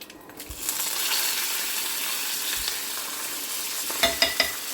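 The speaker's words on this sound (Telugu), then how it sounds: "ఇక ఇప్పుడు ఈ పోపు మనం పప్పులు వేసుకుందాం." Lentils crackle and sizzle steadily in hot tempering oil for gongura dal. A few sharp clinks of a utensil against the pan come near the end, with no talk.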